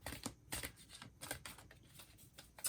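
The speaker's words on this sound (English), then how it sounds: "I'm going to do one more shuffle." A tarot card deck being shuffled by hand: quiet, close riffling bursts of cards in an uneven rhythm, with several distinct flurries and short pauses between them.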